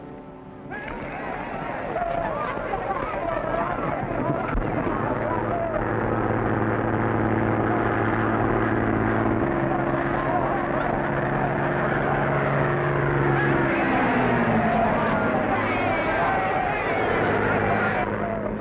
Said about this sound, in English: Pull in the plane, will you, Jonesy?